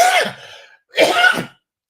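Two harsh, throaty coughs, close and loud, separated by a short pause, with no talking.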